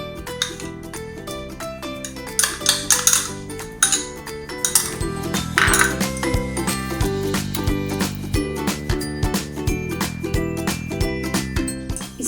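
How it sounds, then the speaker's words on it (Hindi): Pumpkin cake batter with yogurt and pumpkin puree stirred in a bowl, a utensil clinking and scraping against the sides in quick, uneven strokes over soft kitchen hum, close and moderately loud. "और अच्छे से मिक्स करेंगे."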